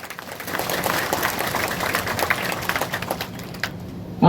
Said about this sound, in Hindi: तालियों की गड़गड़ाहट मेरी जनता